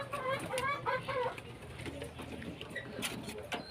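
Pigeons in a home loft cooing softly in a few rolling, throaty phrases, close but fairly quiet, with faint rustling and background noise between calls.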